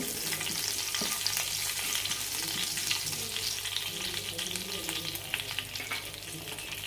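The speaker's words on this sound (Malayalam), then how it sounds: "നന്നായി പൊരിയുന്നവരെ വെയിറ്റ് ചെയ്യാം" Curry masala fries in about three tablespoons of oil in a pan, producing a continuous, close, even sizzle and crackle with no talking.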